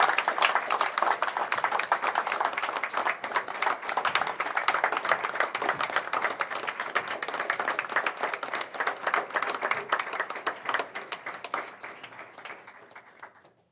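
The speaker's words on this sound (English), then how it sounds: "We have a big round of applause for our spelling bee winners and runners-up." At an elementary school board meeting, a crowd gives spelling bee winners and runners-up a sustained round of dense clapping that runs for many seconds before tapering off.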